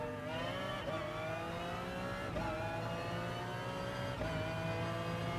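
Race car engines in GT Sport, with a Porsche and a Mustang GT racing, drone steadily, their pitch climbing repeatedly as gears change, moderately faint and without talk.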